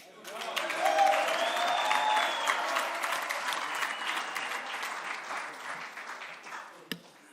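A large crowd applauds and cheers steadily as Conor McGregor is introduced at a bare knuckle fighting press conference in Marbella, Spain, the clapping loud and sustained before easing off near the end.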